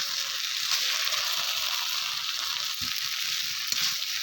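A vegetarian Bengali-style banana flower (mocha) curry fries in a pan while a spatula churns it. The soft sizzle is continuous, broken by a few scraping knocks of the spatula.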